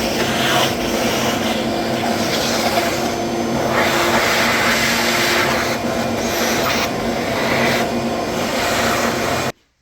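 A shop vacuum runs loud and close, a constant roaring whine with shifting suction tones as it clears loose debris off the cylinder head of a Farmall 504 tractor engine, then cuts off at the end.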